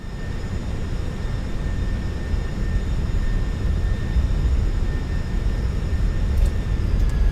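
Airbus A320 jet engines at high throttle in Microsoft Flight Simulator 2024, a steady, loud broadband roar with faint whining tones, continuous from start to finish without talk.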